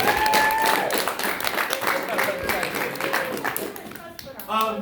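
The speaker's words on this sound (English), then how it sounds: "Can we get another round of applause for everyone right here?" At a scouting district awards banquet, a room of guests claps in a lively burst of applause that softens midway, while a few voices talk over it near the end.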